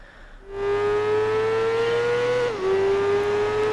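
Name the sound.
motorcycle engines racing in Tourist Trophy video game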